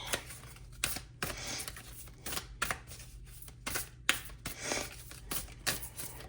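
A deck of playing cards being shuffled by hand, with repeated crisp riffling bursts at a steady rhythm, close and fairly quiet, with no talking.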